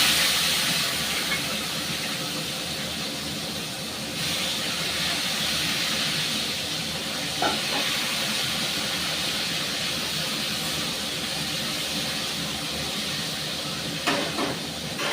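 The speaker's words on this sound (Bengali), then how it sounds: "মাছগুলো আমি খুব ভালো করে লাল করে ভেজে নেব।" Fish fry in hot oil, a steady, dense hiss and crackle running the whole time, close and even, with a couple of faint clicks and no talk.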